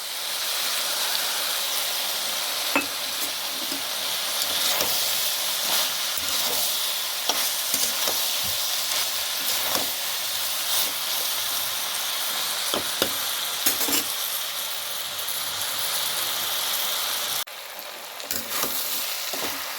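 Food sizzles loudly and steadily in a hot pan, a dense continuous hiss with scattered pops and occasional stirring clicks, close and with no voices.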